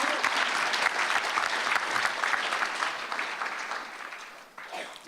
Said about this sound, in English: so keep clapping